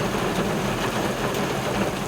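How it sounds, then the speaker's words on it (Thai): Heavy rain pouring down during dredging work, a dense, steady roar of downpour filling the whole clip with no break, loud and close, with no voices over it. "ก็ถือว่าเป็นการลุยงาน ฝ่าสายฝนนะครับฝนถล่ม"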